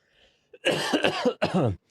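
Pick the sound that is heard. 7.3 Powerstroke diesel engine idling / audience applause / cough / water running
cough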